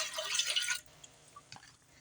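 Room-temperature water pours into a small bread machine pan in a brief bright splashing burst, then stops, leaving a quiet room with a faint drip.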